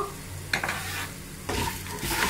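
Coconut, tamarind, ginger, shallots and curry leaves frying in a pan, a close sizzle broken by two or three scraping stirs.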